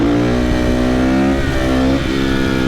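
A new motorcycle engine holds a loud, close, steady rev with a strong droning hum, dipping slightly near the end.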